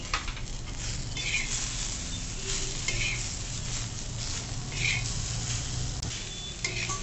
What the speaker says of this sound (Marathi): आता आपण यात टोमॅटो पण थोडंसं परतवून घेऊ।